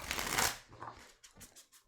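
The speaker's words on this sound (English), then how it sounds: "We got some shuffling to do here." Tarot cards are shuffled close by: a loud riffling burst, then several softer shuffling bursts trailing off, with no speech.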